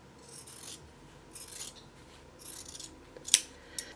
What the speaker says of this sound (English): I'm going to cut on the line that I drew